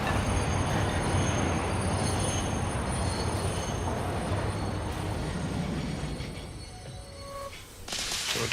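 Train rolling along rails in the video game Satisfactory, a steady loud rumbling roar with metallic wheel hiss that holds for several seconds, then thins slightly before swelling again, with no talking.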